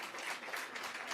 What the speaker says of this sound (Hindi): एक दूसरे के लिए तालियां बजा लें।